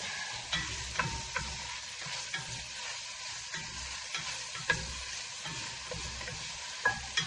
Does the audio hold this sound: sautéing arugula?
yes